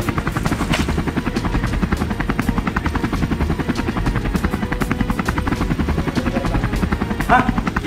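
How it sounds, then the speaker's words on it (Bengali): A helicopter in an animated action cartoon chops loudly and close, its rapid rotor beats pulsing evenly throughout, with voices breaking in briefly over the din. "হেলিকপ্টার"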